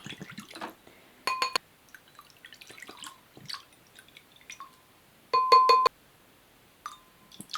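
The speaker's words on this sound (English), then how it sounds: "So we're gonna rinse this one out in water, and we're just gonna pour all the ink in here." Sublimation ink poured from a bottle into a water-rinsed container gives sparse liquid splashes and drips with a few sharp glassy clinks, quiet between bursts.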